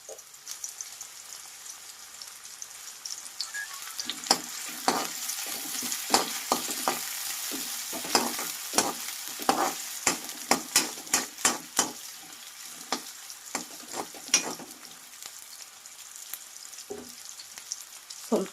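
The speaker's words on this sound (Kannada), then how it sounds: "ಹಸಿಮೆಣಸು ಎರಡು ಸ್ವಲ್ಪ ಬ್ರೌನ್ ಆಗೋವರೆಗೆ ಸ್ವಲ್ಪ ಫ್ರೈ ಮಾಡ್ಕೋಬೇಕು" Crushed garlic and green chillies frying in hot oil in a pan, a steady crackling sizzle dotted with frequent sharp pops and spits, close and fairly quiet, with no talk.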